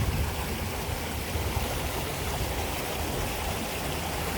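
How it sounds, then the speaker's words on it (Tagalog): River water rushes over large rocks at Yellow Dragon River in Hong Kong, a steady, close, broadband roar that holds constant throughout with no voices. "Ito, puro sa flowing water."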